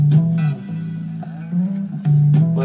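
A bass line beat chopped up and looped in Audacity plays alone, a deep repeating bass figure with short cuts and restarts at a steady, loud level.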